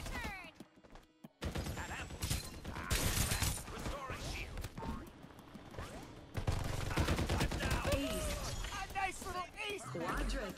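Gunfire in the battle royale game Farlight 84, bursts of rapid shots and crashing impacts mixed with game effects and chirping electronic sounds, with people talking over the action.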